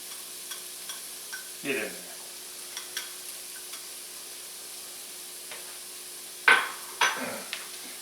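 Chopped carrots and yellow onion sizzle in a pan for fried rice, with a few bursts of stirring scrapes near the start and a louder cluster of stirring toward the end; a brief voice speaks once.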